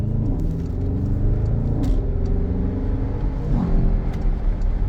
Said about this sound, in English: looks like we found a little bit of a gap here, so we'll go ahead and pull out